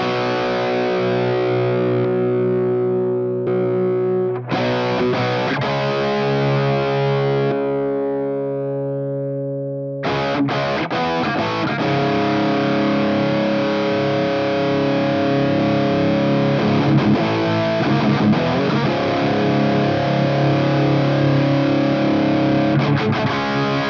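Electric guitar played through a Human Plexcalibur distortion pedal, with sustained overdriven chords that ring out, stop briefly near the middle, then return as a denser distorted riff, loud and continuous without any voice.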